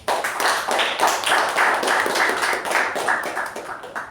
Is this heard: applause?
yes